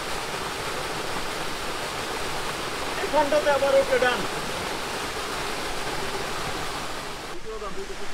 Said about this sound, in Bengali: ব কানাল ঝর্ণা।